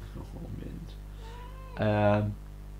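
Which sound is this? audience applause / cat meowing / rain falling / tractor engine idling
cat meowing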